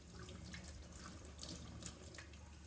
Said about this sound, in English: I do a first rinse with tap water to remove the cleaning solution